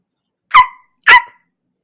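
A dog gives two sharp, loud barks about half a second apart, close and isolated against silence.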